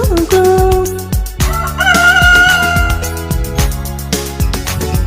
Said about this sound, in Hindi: मुझे मुर्गे ने जगाया, बोला कुकड़ू कू।